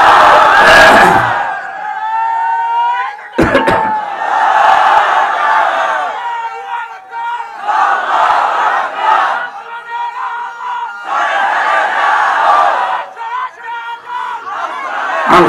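A large crowd at a Bangla Ramadan waz gathering roars the takbir response Allahu Akbar in unison, loud repeated chanted shouts rising and falling in waves, with a voice calling out between them.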